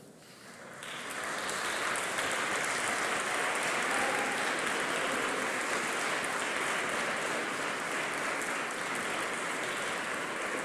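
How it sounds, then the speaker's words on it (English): A graduation audience in a hall for the College of Engineering and Physical Sciences claps steadily, a dense, loud wash of applause that swells in within the first second and holds evenly to the end. "So, big round of applause."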